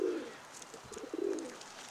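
Young tumbler pigeons coo softly at feeding time in a loft, two low murmuring coos with faint rustles between them, quiet and close.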